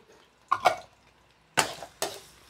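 Pork leg and minced garlic stir-frying in lard in a pan, with three distinct bursts of scraping and sizzling from the stirring separated by quiet pauses, close and fairly soft.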